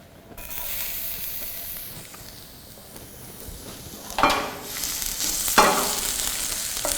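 Chopped garlic sizzles steadily in olive oil in a hot pan, a continuous close frying hiss with a couple of sharp stirring or utensil scrapes partway through.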